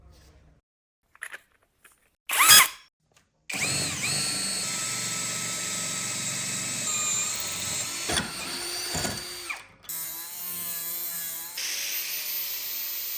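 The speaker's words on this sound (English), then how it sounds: "Now using a 40mm diameter bit, we'll drill a hole in the center." A power drill fitted with a 40mm bit bores a center hole for a homemade pellet stove lid: a few short bursts, then a sustained, loud motor whine that shifts in pitch as the cut progresses.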